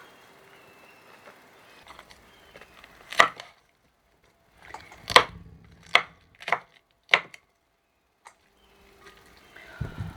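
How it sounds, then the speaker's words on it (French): Fresh chili peppers cut into large chunks with a knife: a handful of separate, crisp chops on a board, close and fairly loud, spaced irregularly between quiet gaps, with no voices. "je vais prendre mes piments frais, les couper en gros morceaux et les mettre directement dans mon blender"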